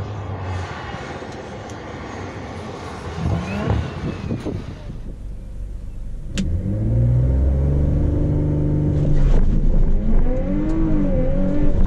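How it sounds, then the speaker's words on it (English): An Audi RS4, car number 45, racing on track at a motorsport event: engine roars past and revs climb and fall through gear changes, loud and close with rising pitch sweeps. "Out on track at the moment is car number 45. 1165. Audi RS4."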